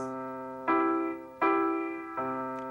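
Three piano chords in 3/4 time, one left-hand strike followed by two right-hand strikes, at an even pace, each ringing and fading before the next, played alone and fairly quiet.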